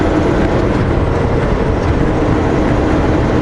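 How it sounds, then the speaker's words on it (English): A short passenger train of one engine and four cars passes close by along the Columbia River, heard as a loud, steady low rumble and roar that does not let up. "Hey look, a train!"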